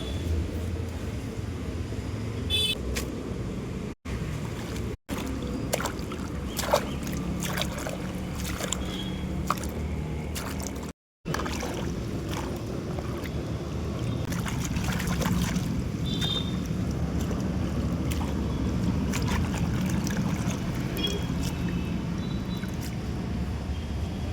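Kali bhaji leafy greens are swished and rinsed in water up close, giving a continuous wash of splashing and trickling broken by a few sharp clicks and brief dropouts.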